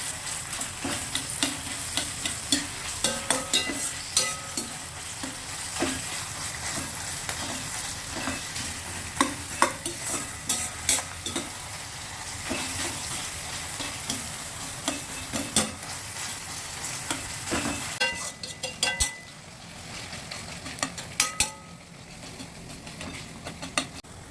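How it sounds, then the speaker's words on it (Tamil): Onions frying in a pan for a Tamil fish dish, a steady close sizzle with frequent stirring and scraping clicks running throughout, easing slightly near the end. "இப்போ வெங்காயம் நல்லா பொரியுது"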